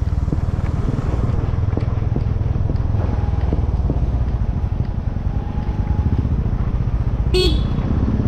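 A vehicle horn gives one short, sharp toot near the end over the loud, close, steady drone of a motorcycle engine on a road outside Kathmandu.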